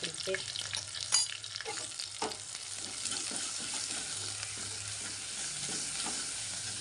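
Onion and ginger-garlic paste fry in a pot, hissing in a steady sizzle as a spoon stirs with occasional soft scrapes and knocks, fairly quiet and close with no talking.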